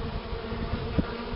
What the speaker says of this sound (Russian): Выгоню оставшихся пчел еще раз.